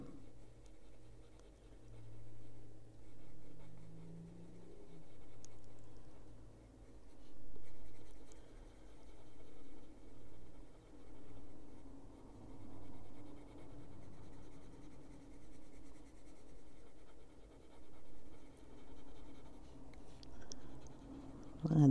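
Luminance colored pencil shading berries on paper with a dull, unsharpened tip, a soft continuous scratchy rubbing that runs steadily in close, quiet strokes for the whole stretch.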